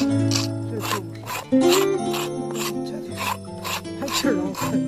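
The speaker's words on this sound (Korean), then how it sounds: "먼저 지금 초피 작업 껍질을 제거하고 있습니다" Bark is scraped and peeled from a pear tree trunk ahead of grafting, giving a series of short rhythmic rasping strokes close by, repeating about every half second over a low steady hum.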